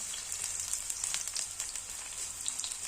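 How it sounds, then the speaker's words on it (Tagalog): Onions sautéing in a pan of hot oil give a steady, close sizzle and crackle, quite quiet, with small bursts of popping and no voices. "Pag nagigisa po ako, ang inuuna ko ay sibuyas."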